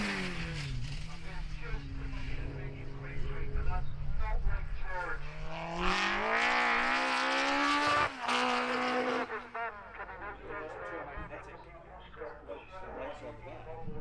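Race car driven by George Coghill at a Golspie sprint championship event, sliding through several corners: engine note rising and falling as it revs hard, with a loud sustained howl mid-run, heard under continuous commentary.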